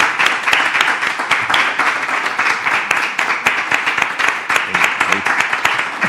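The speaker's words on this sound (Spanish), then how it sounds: "Un aplauso para Javier, que va a ser abuelo." An audience claps for Javier in a continuous, fairly close round of applause, dense and uneven hand claps lasting the whole stretch without letting up.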